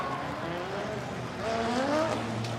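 A drift car's engine revs and whines at close range during a Drift Masters qualifying run in Finland, with tire squeal rising and falling as it slides, brakes, then accelerates; no talk.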